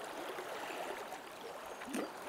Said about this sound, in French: à travers le flux de cette eau qui coule, de cette rivière